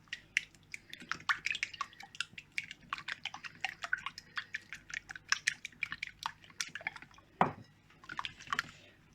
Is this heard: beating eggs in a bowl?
yes